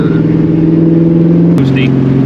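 A 1999–2004 Ford Mustang engine drones steadily while accelerating, then its pitch drops sharply as the driver shifts into third gear with a manual shifter; a voice talks over it throughout.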